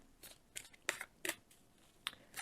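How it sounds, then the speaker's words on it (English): Tarot cards are shuffled in short crisp bursts, a series of about seven quick riffling and slapping sounds spaced irregularly, close and fairly quiet. "As I'm shuffling the cards"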